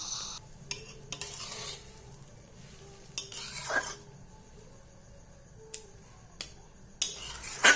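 Grated carrots and milk for carrot halwa are stirred in a pan: soft, scattered scraping strokes come in short bursts against a quiet, faintly hissing background.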